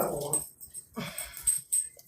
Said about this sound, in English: I don't know what they're barking at. They're becoming Mexican dogs.